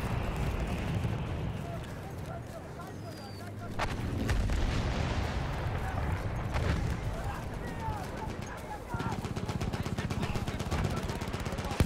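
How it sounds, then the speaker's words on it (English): Battlefield 1 mortar fire arrives as heavy, booming thuds and rumbling blasts mixed with scattered gunfire across a battlefield, while someone talks throughout. "somebody is on the mortar shoots"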